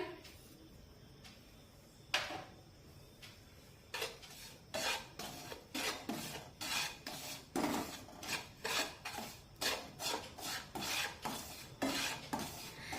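Wheat flour and two to three spoons of semolina roasting in a pan over a low flame, stirred steadily: after a quiet start, a run of rhythmic scraping strokes against the pan, close and even, with no talk.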